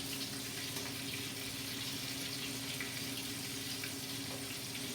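A steady sizzle of chicken frying in hot oil, constant and close, with no talking.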